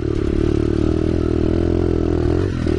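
A dirt bike motorcycle on a motocross track drones loudly and continuously up close, its engine holding a steady buzzing note with a slight dip near the end, with no talk.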